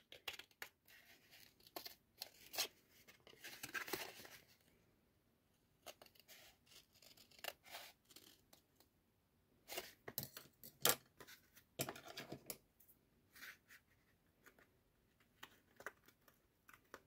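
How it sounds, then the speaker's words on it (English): Scissors snipping through toilet paper roll cardboard, close and quiet, in irregular clusters of short crisp cuts with brief pauses between. "So here I'm gonna cut the sides to that fold."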